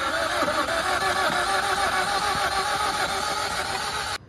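A 2018 Hyundai i20 with an MPFI petrol engine, showing a head gasket fault after overheating, runs at a steady close idle. The loud, even mechanical drone carries a slight ticking rattle and cuts off abruptly at the end.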